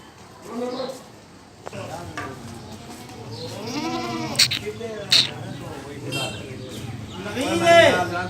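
Goats on a goat farm in Dera Ghazi Khan bleat repeatedly, several calls overlapping near and far, with people talking among them.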